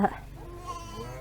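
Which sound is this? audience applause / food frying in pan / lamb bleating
lamb bleating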